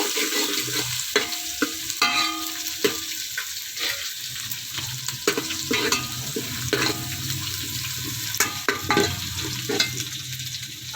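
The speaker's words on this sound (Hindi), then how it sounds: "तो फिर हम इसमें गोश्त डाल देंगे।" Cumin and ginger sizzle in hot oil in a pot for white beef degi pulao. The frying is steady and close, broken by repeated stirring scrapes and clanks, with no talking.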